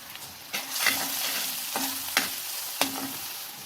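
Onion sautéing in a pan with curry leaves, salt and asafoetida gives a gentle sizzle, with three or four distinct scrapes of a spoon against the pan.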